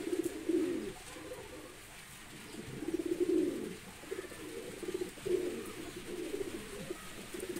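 A pair of pigeons coo quietly in several rolling bursts over about seven seconds, fairly close, with no talk over them.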